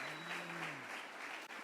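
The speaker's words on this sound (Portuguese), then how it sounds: "Aplauda o Senhor." A church congregation clapping steadily during a morning service, faint and diffuse in the hall, with a low tone underneath that fades partway through.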